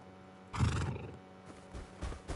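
A horse in a video game gives a single loud whinny that rises and then fades, followed by a few softer snorts and shuffling sounds.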